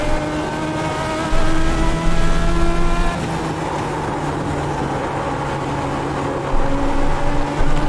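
Legends '34 Coupe race car engine at Langley Speedway in the iRacing video game, a steady close droning whine with layered harmonics that swells louder twice as the car pushes on, with no talk.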